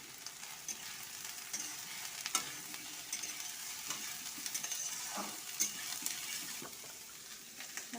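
Soybean chunks frying and being stirred in a pan of onion and garlic for a dal and soya curry, giving a quiet continuous sizzle with occasional scraping spatula strokes.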